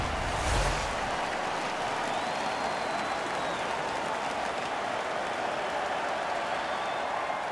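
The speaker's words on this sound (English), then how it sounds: "The crowd is ecstatic." A steady arena crowd roar with applause in an NHL 15 hockey game, Canadiens against Maple Leafs, filling the whole stretch at an even level with no break.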